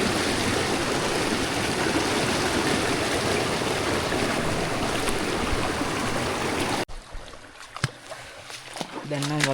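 A mountain stream tumbles down a chain of cascades on a trek from Horton Plains to Ohiya in Sri Lanka, a loud, dense rushing roar for several seconds before an abrupt cut to much quieter surroundings.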